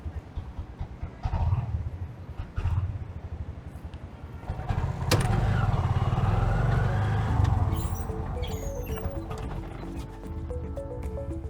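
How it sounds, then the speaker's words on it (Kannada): Busy city road traffic around a ride-hailing auto in Bengaluru, with engines running and vehicles passing close by, a steady loud rumble that swells midway and keeps going throughout. "ನೋಡಿ ಸರ್, ಏನ್ ಟ್ರಾಫಿಕ್."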